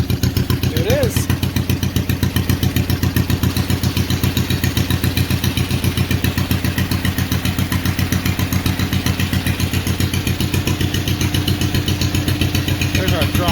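A John Deere LA tractor engine running at idle during a restoration, a close, loud, evenly pulsing putter with a steady low thumping rhythm throughout.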